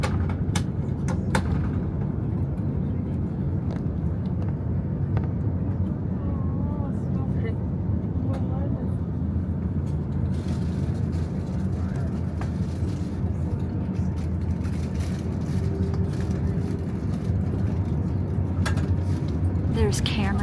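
Airplane cabin noise while taxiing in the takeoff lineup: a steady low engine drone and rumble fills the cabin, with occasional knocks and rattles, and people talk over it.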